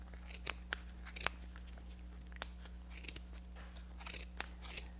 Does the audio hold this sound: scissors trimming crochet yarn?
yes